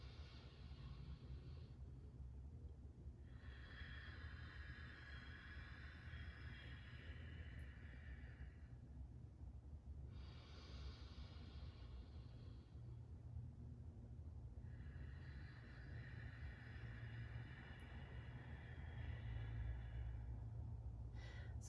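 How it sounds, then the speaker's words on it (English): Ujjayi breathing with a deep inhale through the nose and a forced exhale, its steady hushed throat-constricted hiss heard across roughly three long, soft breath cycles close by. "Ujjayi breath, victorious breath"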